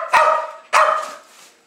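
A young, excited Jack Russell Terrier gives two sharp, loud barks close by, about half a second apart. The second bark trails off more slowly.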